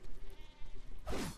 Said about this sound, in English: Oh, goats.